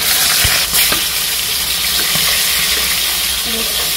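Fish heads frying in hot oil in a heated kadai give a loud, steady, close sizzle that fills the whole clip, with faint scrapes of a spoon underneath.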